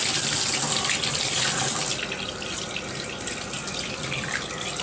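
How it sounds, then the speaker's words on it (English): Cool tap water running steadily from a faucet to wet a human-hair wig, a close, loud hiss that drops slightly in level partway as the flow hits the hair. "Next, you'll use cool water to wet the wig."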